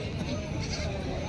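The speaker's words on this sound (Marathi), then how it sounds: "आता गावरान जाती शेळी मित्रांनो, दुधाची शेळी आहे." A local-breed dairy goat bleats at a busy village livestock market, its calls mixed into a dense crowd murmur and nearby talk that runs the whole time.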